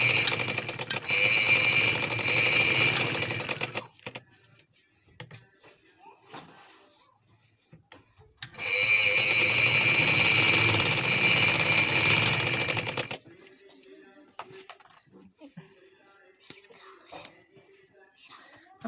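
Sewing machine running in two long loud bursts as it stitches a second gathering line on an umbrella frock, with quieter pauses between where a voice speaks softly.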